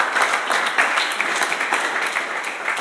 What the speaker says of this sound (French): Alors, vous pouvez vous acclamer.